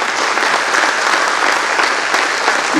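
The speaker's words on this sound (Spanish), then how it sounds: "puedo pedir que le demos un fuerte aplauso al equipo de salud nuevamente" A dense burst of applause fills a municipal hall at the opening of the legislative session in Morteros, with many hands clapping together loudly and steadily, honoring the local health team.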